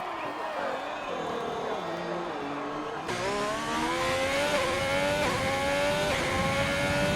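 A race car in a racing game drives a lap of the Belgian circuit, its engine revving and shifting up through gears with rising whines, while commentators talk over it.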